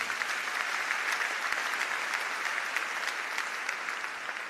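A church congregation applauds and cheers in praise during a French-language worship service, a dense, steady wash of clapping that holds loud and even from start to finish.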